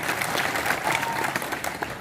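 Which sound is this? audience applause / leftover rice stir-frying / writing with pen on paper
audience applause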